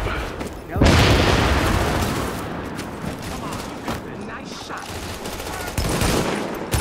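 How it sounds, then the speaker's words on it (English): A frag grenade blast booms loudly in a firefight in The Division, with a dense crackle of gunfire rolling on around it and a second burst swelling near the end; a voice talks through the din. "Frag inbound."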